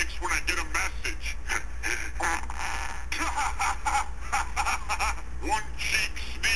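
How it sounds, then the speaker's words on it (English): A phone's message alert plays as a quirky, comical sound resembling a fart or quack, repeating in short bursts over a steady background hum. "Listen to the sound it makes when I get a message."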